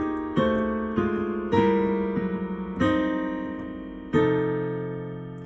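Piano chords from a song, played as a slow progression of about five sustained chords, each struck cleanly and left to ring before the next, with no voices.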